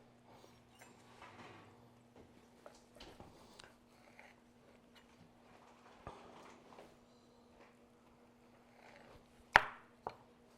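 A knife works through a homemade pastrami brisket with soft, scattered cutting taps, quiet and close, ending in one louder sharp clack against the board.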